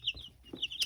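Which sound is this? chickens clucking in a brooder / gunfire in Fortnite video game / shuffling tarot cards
chickens clucking in a brooder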